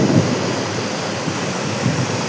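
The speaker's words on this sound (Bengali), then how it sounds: "ও তো তোমরা এখানে জলের স্রোত শুনতেই পাচ্ছ" Rushing mountain stream near Dossam Falls, a dense, continuous roar of flowing water close by, steady and loud with no breaks and no voices.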